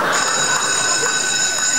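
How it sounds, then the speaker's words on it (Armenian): A bell rings loudly and continuously for the full stretch, a steady bright electric jangle with no pauses and no voices over it. "զանգը հնչեց։"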